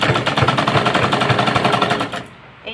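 A sewing machine stitching cotton fabric, a loud close rapid run of rhythmic mechanical clatter for about two seconds before it stops abruptly, leaving a quiet tail.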